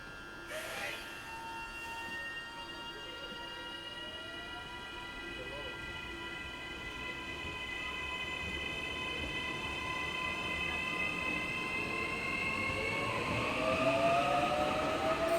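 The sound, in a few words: AM class electric train arriving at station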